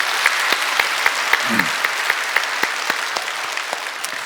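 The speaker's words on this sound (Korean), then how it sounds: "하나님께 모든 감사 영광의 박수 올려드립니다." A church congregation at a Sunday worship service applauds, with dense steady clapping and distinct rhythmic claps cutting through at regular intervals, fairly loud and close throughout.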